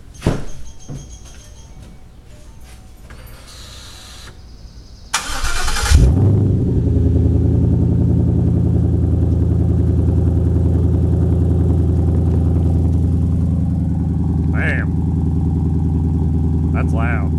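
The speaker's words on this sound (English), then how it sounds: "I'm gonna start it up with no mufflers" A 2014 Ford Mustang GT with no mufflers is started after some quiet handling noises and settles into a loud, deep, steady idle that fills the rest of the clip. A couple of brief higher blips come near the end.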